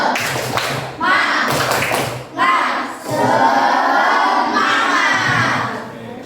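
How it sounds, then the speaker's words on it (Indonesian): A school class does a rhythmic spirit clap, with groups of quick, loud hand claps and thumps in bursts, mixed with children's chanting and shouting in a classroom. "Oke, tepuk semangat."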